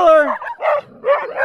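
A standard poodle barks three times in quick succession, loud and close, outdoors in Sun Valley, Idaho, with short pauses between the sharp yapping barks.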